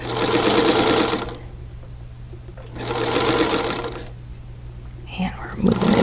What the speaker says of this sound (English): So we just keep matching up our slits and sewing straight